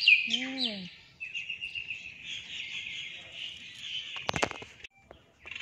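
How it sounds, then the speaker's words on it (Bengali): Birds chirp and sing in an outdoor setting, with a clear near call at the start followed by a long steady trill and a few sharp notes, fairly faint. "অনেক সুন্দর পাখির কিচিরমিচির আবার শোনা যাচ্ছে।"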